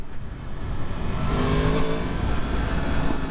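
A Yamaha MT-10 SP motorcycle's engine roars under hard acceleration, a loud, dense, continuous growl with heavy wind rush, captured close from the rider's position.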